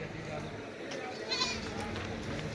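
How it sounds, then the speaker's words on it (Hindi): Goats bleat inside a specially built transport vehicle carrying pink goats from Karachi to Sialkot, a few calls rising over a steady rumbling background while people talk nearby. "माशाल्लाह से ये बकरियाँ और ये जाएंगी माशाल्लाह से।"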